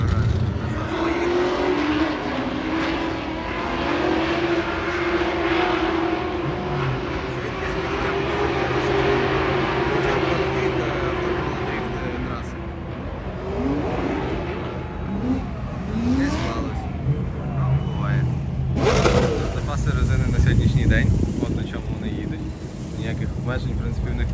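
Formula Drift race cars at Irwindale Speedway in California: a continuous loud roar of revving engines with rising and falling pitch and a surging burst near the end, mixed with crowd ambience while someone talks over it.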